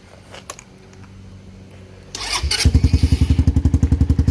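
A few quiet clicks, then a Lifan KP Mini motorcycle with a stock 150 engine and aftermarket exhaust cranks and cold-starts, settling into a loud, close, rapidly pulsing idle that continues to the end.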